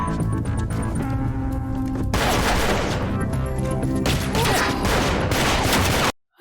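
Gunfire shootout from a Steven Seagal TV show, with loud sustained bursts of shots trading back and forth over a dense action soundtrack, cutting off abruptly at the end.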